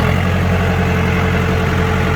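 A Mitsubishi MT2801 mini tractor with a 28 hp engine runs at a steady, loud, close drone with an even low throb and no change in pace.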